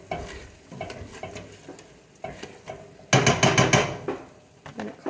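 A spoon stirring sugar into tomato pasta sauce in a pot, with repeated scraping and clinking strokes that grow louder and busier toward the end.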